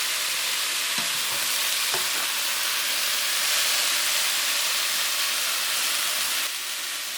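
Cooking wine poured into a sizzling green bean and shiitake mushroom stir fry, a steady loud frying hiss throughout with a couple of brief clinks near the start.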